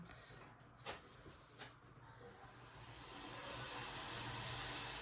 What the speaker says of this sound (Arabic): ها غادي نحطو في الزيت